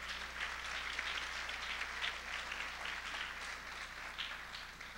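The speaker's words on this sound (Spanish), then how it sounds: "Denle un fuerte aplauso, por favor." A Christian congregation at a church gathering gives a strong round of applause, a steady, moderately distant patter of many hands clapping that continues without a break throughout.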